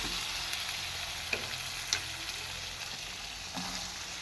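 Prawns and ridge gourd fry in a hot pan with a steady, close hiss of oil, broken by a few soft clicks and stirring taps, no talk.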